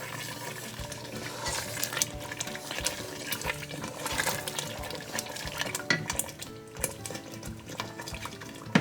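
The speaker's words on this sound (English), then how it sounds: "You want it to fry till the oil comes out" Guinean smoked catfish soup sauce frying in oil, a steady close sizzle broken by frequent clinks and scrapes of a utensil against the pot, with no talking.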